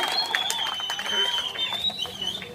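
Applause from a crowd at an outdoor political rally, steady clapping that runs the whole way through with a mix of crowd noise and a thin high whistle-like tone above it.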